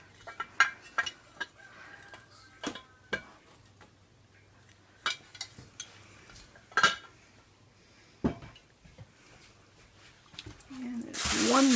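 Ceramic dishes and lids from a garage-sale collection clink and clatter in scattered sharp knocks and scrapes, some loud and close, with brief speech between handlings and a rustling rush at the end.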